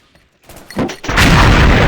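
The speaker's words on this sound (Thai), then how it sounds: "ระเบิดมาโดนหนักเหมือนกันนะ" An explosion bursts during a competitive XSHOT shooter match: after a quiet start, a sharp blast swells into a loud, sustained roaring boom.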